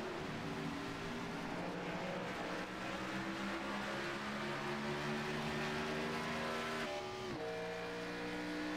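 Race cars on a track during a night race, roaring continuously at a distance with layered engine whines, one car's pitch dropping sharply as it brakes or passes, no talk.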